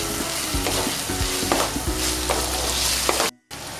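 Chopped tomato and slit green chili hit a pan of frying mushrooms with garlic, raising a loud, dense sizzle alongside repeated scraping stirs, then cutting off abruptly near the end; no one speaks.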